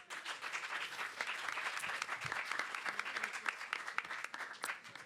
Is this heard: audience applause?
yes